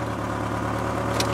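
Truck engine idling with tequila in the gas tank, a steady even low throb running smoothly throughout the brief moment.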